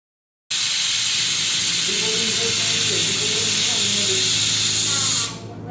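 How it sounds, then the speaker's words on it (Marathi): A pressure cooker on medium heat lets out one long, loud steam whistle, a steady hissing blast that holds strongly for several seconds before it drops away abruptly. "फुल आचेवरती नाही, तर मध्यम आचेवरती कुकरची 1 शिट्टी मी करून घेतली"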